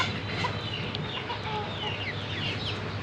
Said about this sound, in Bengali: আজকে মোটামুটি একটু বড় এবং ছোট যেই মুরগিগুলো আছে সবগুলোকেই ছেড়েছি।